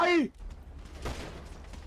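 Gunfire cracks in a competitive video game match as a brief sharp burst cuts through, following a short vocal sound at the start, with continuous game noise underneath.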